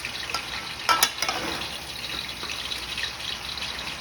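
Lo mein being stirred and tossed in a hot pan after the heat is turned off, with a steady close sizzle and a few sharp scraping clatters near the start, no talking.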